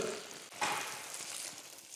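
Mackerel puttanesca sauce frying in a pan, a soft steady sizzle with a brief louder crackle partway through, fairly quiet and with no talk.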